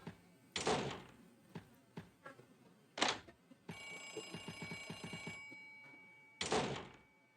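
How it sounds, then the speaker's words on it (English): A telephone bell rings in an RPG Maker horror game, one sustained electronic ring mid-clip, set among several loud thuds and door-like bangs in an otherwise quiet scene. "Answer the phone, Pepper."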